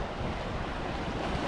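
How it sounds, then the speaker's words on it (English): Cross-shore wind and waves at a beach by a boat ramp on Eleuthera, Bahamas, a loud steady roar of gusting wind buffeting the microphone over continuous surf, with no speech. "the wind is picked up and it's cross shore on both sides"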